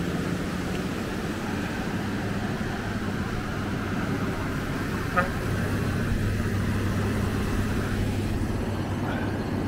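Garbage truck driving past on a beach promenade in Maspalomas, Gran Canaria, a steady low engine rumble and road noise that swells slightly partway through, close and continuous, with no talking.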